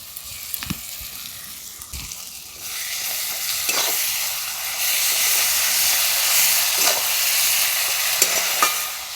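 Ginger-garlic paste and dried chili paste fry in hot oil for a Sundarbans crab curry, a close, rising sizzle with scattered spoon scrapes and clinks as it is stirred.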